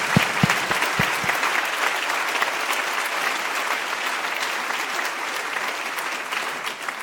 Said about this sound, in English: I would appreciate it if you give our partners a round of applause.